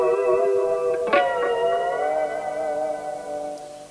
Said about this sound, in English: You can change the pitch of the notes using the tremolo arm like this.